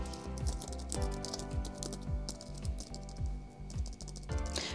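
Someone types on a computer keyboard, a close and fairly quiet run of uneven key clicks with short pauses and bursts, and no voices over it.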